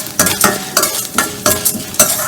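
Urad dal frying in a pan while being stirred, loud close rhythmic scraping strokes every half second or so over a constant crackling sizzle.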